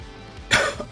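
A single short, breathy cough from smoke in the game Didnapper 2 bursts out after a moment of quiet background, followed by a softer catch.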